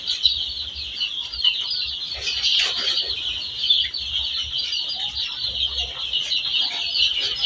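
Nine-day-old Sonali chicks peep and cluck continuously in a close, busy chorus, with faint wing flutters and scuffling underneath and no talk.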